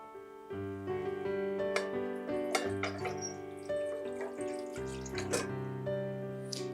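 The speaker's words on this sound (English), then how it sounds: "we're going to start with 2 cans of Swanson's chicken broth. We're going to put it into the rice cooker." Two cans of Swanson's chicken broth pour steadily into a rice cooker, a continuous close liquid splash and gurgle with shifting tone, heard alone without any talking.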